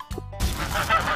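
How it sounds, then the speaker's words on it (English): A goose honks loudly and close by in a single short, harsh call, heard alone with no talking around it. "Old MacDonald's goose goes."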